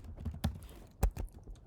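A few quiet, separate keystrokes on a computer keyboard tap out in an uneven rhythm, with no talking.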